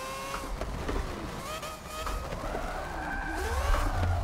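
A race car in a racing video game, driven sideways through a corkscrew on a steering wheel setup, holds its engine at redline, a steady loud buzzing drone with shifting pitch and occasional tire squeal, no talking.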